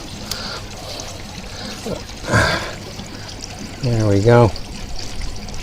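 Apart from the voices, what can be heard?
water flowing through boxes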